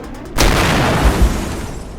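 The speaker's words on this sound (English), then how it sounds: "They're dropping bombs on us." A war-scene bomb explosion sound effect from an aerial bombing, a sudden loud boom with a rumbling tail and a couple of further low thuds, with no voices.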